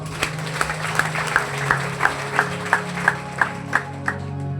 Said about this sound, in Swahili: Haya, sisi apigiwa makofi basi.